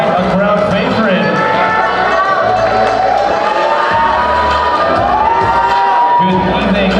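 A large crowd at a Miss International Queen Philippines Calabarzon 2024 pageant at Thunderbird Resorts and Casino cheers and shouts loudly for the Antipolo City finalist, a sustained roar mixed with whoops and a host's voice.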